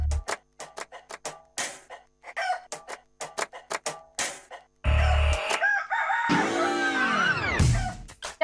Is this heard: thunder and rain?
no